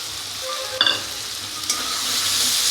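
A ground paste of cashew, poppy seed and pumpkin seed is stirred into a pan with a little water and sugar for a pumpkin chakka, giving a soft continuous sizzle with a couple of sharp spoon scrapes and no voices.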